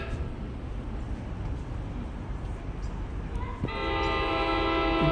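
A train pulls into a New Jersey commuter station on a Sunday morning as stopped street traffic hums. A low rumble builds, then a loud, sustained horn blows over the final seconds.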